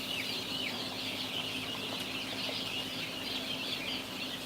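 Baby chickens being raised indoors give a steady, continuous high chorus of chirping and peeping that fills the space, alone with a low hum beneath.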